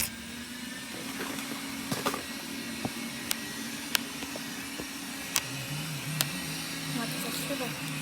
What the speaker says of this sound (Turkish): Belki canı sıkılıyordur bu süpürgenin.